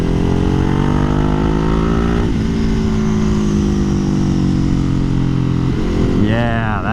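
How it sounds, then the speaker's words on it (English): A 90-degree V-twin motorcycle fitted with a slip-on exhaust revs on a dyno. A loud, steady engine drone dips and climbs in pitch, then rises sharply in a quick rev near the end. "It's a 90-degree V-twin, but still, I don't know that I'm really in love with the sound on this thing."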